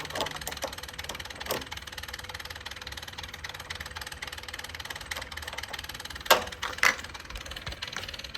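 A Ford EcoBoost Ranger engine keeps running with a steady low idle rumble and faint vibration, then two short louder knocks or clanks near the end.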